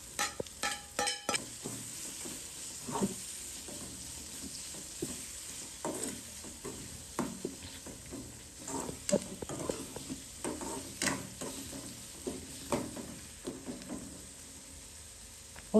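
Tomatoes go into a frying pan for a dried Bombay duck chutney and are stirred, with repeated scraping and clinking of a spatula over a continuous sizzle, rhythmic and close.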